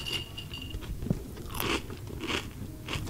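Crisp snack crunching from bites at an office snack break, with a few sharp crackling crunches and quieter rustling between them, fairly close and without talk.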